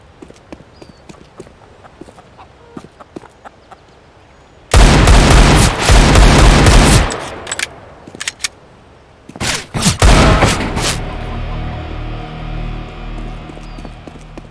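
Gunfire from the video game CS:GO, with a loud sustained burst of rapid automatic shots, a pause, then another volley and fading echoes over quiet ticking footsteps.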